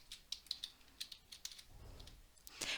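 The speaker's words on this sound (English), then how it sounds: "And when you're done typing your name" Typing on a computer keyboard while entering a name into a resume document in Word, heard as quiet, close, irregular clicking keystrokes in short bursts, with a softer low rumble partway through and a louder cluster of clicks at the end.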